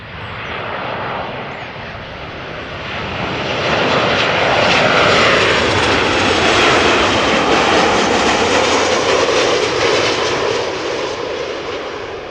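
A Ryanair Boeing 737-800 arriving at Amsterdam Schiphol Airport makes a loud, continuous jet engine roar that swells as it passes close and then holds steady, with no voices.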